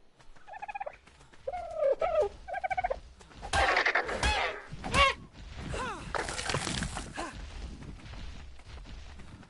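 A bird in the video game Ark: Survival Evolved gives a run of turkey-like gobbling calls in short bursts, followed by crashing game noises and loud clatter.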